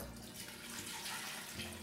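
Water poured into a cooking pot for a braising liquid with red wine, a soft continuous splashing hiss, steady and fairly quiet, with no talk.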